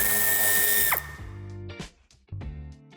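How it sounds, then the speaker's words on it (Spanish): A power driver spins out the wheel-arch screws on a 2018 Seat Tarraco, with a loud whirring run that winds down, then short bursts of ratcheting and clicking from the tool close by in a workshop. "En los pasos de rueda quitaremos los 3 tornillos que tenemos a la vista."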